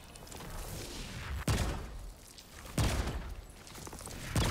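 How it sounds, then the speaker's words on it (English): Bursts of ricocheting fire-round gunfire in the shooter Remnant 2, with three sharp loud volleys spaced about every second and a half, each trailing into a crackling decay. "Ricocheting fire rounds, did I see that right?"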